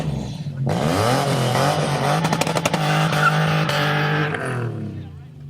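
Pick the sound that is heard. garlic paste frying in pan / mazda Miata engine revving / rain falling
mazda Miata engine revving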